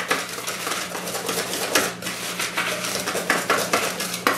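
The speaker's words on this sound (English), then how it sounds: "We need to grab a whisk and mix up the dry ingredients." Whisk mixing dry ingredients in a bowl in a home kitchen, giving a rapid, steady clatter and scrape of wire against the bowl that continues without pause, close and moderately loud.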